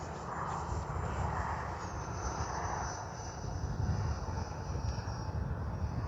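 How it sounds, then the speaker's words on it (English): RC jet aircraft making a flyby pass, a steady roaring turbine whine with a high tone that shifts slightly downward as it passes, moderately distant and constant throughout. "let's do a pass. One flyby here."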